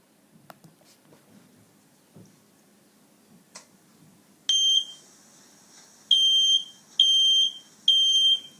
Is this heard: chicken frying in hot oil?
no